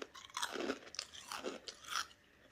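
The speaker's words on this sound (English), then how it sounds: "They look like little tteokbokki rolls. I'm assuming that they're going to be crunchy." Close, crunchy chewing of crunchy rolls resembling tteokbokki, with several loud crisp bites and munches in quick succession and no talking.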